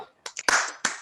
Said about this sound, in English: could we just unmute for a second for a round of applause for Kitty?